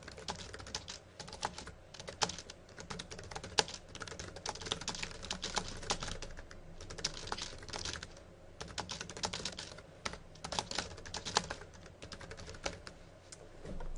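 Steady typing on a computer keyboard, a continuous patter of close, quiet key clicks with irregular rhythm and brief pauses, heard alone.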